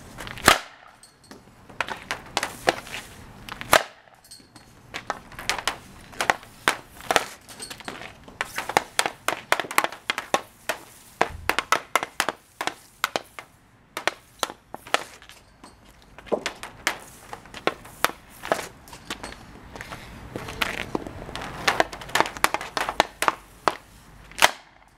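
Ice hockey shots, with sharp clacks of stick hitting puck recurring irregularly over a long stretch, some loud and close, others fainter, mixed with scraping and thuds.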